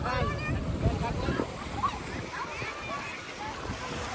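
Sea water at Dwarka washes and splashes steadily nearby, with wind buffeting the microphone and people talking over the surf.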